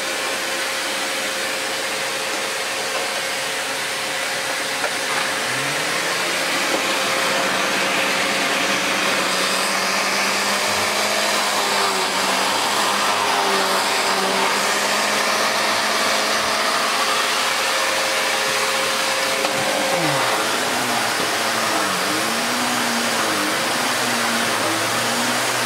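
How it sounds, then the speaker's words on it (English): A Lux 1 Royal D820M vacuum cleaner runs with its power nozzle attached, giving a steady loud motor whine and airflow roar throughout, with the pitch wavering and sweeping now and then as the nozzle makes odd shifting noises. "Power nozzle can make some odd noises every now and again,"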